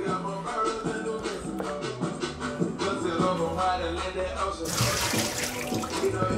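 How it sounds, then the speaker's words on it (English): Water drains from a kitchen sink after beets were washed, gurgling and splashing unevenly at close range. A louder rushing burst comes near the end, with a voice talking over parts of it. "I just drained the water."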